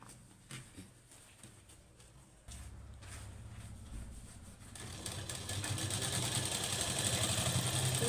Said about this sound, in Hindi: इस तरह से करके ही इस पर सिलाई लगाएं।